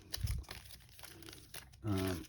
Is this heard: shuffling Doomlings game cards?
yes